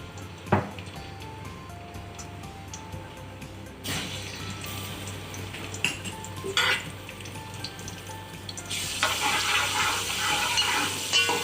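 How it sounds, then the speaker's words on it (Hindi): Garlic frying in several spoonfuls of hot cooking oil for chicken fried rice, a continuous sizzle with sharp clanks of a utensil against the pan and stirring scrapes, growing louder and hissier toward the end. "अब जी हम ऐड कर देंगे लहसुन,"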